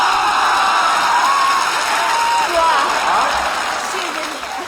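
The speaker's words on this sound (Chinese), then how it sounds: "此地有雷鸣般的掌声" Dense applause and crowd cheering from a studio comedy audience, a thick continuous wash of clapping that fades slightly toward the end, with someone speaking over it.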